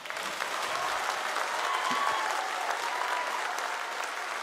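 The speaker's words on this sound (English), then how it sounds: "I want you to give the Lord the loudest clap offering." A church congregation at a Father's Sunday service gives a loud clap offering: dense, sustained clapping that swells in the first half-second and holds evenly throughout.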